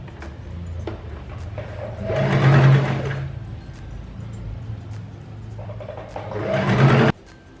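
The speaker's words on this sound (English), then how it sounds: "Now fold the other edge and make a stitch." Sewing machine stitching the folded edge of a printed fabric tunic-style kurti, running in two loud bursts with a steady mechanical whir, the motor winding down and stopping abruptly near the end.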